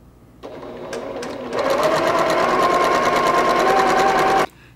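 A sewing machine runs steadily while stitching half-square triangle quilt pieces, starting with a lighter whir and a few clicks before settling into a loud, even mechanical hum that stops abruptly.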